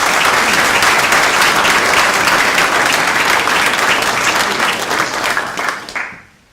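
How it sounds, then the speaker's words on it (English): Audience applause at a book launch, a steady dense wash of clapping from a full room that holds loud throughout and fades out at the end. "we must applaud Tom for this"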